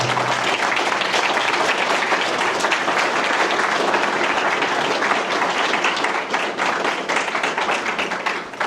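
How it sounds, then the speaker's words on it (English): A crowd at a city council and mayoral candidate forum applauds the candidates, loud sustained clapping from many hands filling the room for several seconds before slowly thinning. "Let's give them a round of applause."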